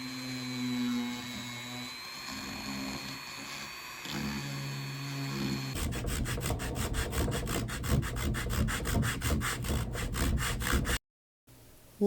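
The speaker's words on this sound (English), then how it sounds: "I'm going to keep working on the shape with the sandpaper and with the Dremel." Sandpaper scrubbing over cured Bondo filler on woodgrain, a steady rapid back-and-forth rasping that runs for several seconds before cutting off, preceded by a quieter stretch with a low hum.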